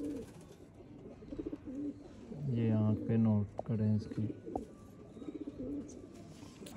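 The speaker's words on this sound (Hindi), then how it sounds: "ये देखें जी चपड़े कबूतर, ये हमारे टाइगर कबूतर है" Pigeons of the Sialkoti breed, including a 'tiger' bird, give a low, repeated cooing burst near the middle, with someone talking over and around the calls.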